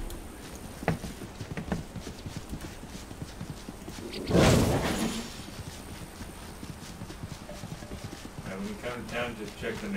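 Horse hooves clip-clop in a video game, a steady walking patter beneath people talking, with a louder rushing burst midway.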